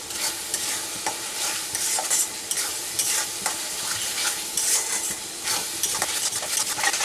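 Jackfruit pieces with turmeric are stir-fried in a pan: loud, close rhythmic scraping of the spoon against the pan over a continuous sizzle, repeating about every half second, with no voices.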